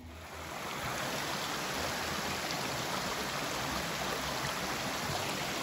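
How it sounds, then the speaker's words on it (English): A creek swollen after overnight rain rushes steadily along a hiking trail, a dense, even roar of flowing water that holds at the same loud level from start to end, with no voices. "this morning has this creek running pretty good"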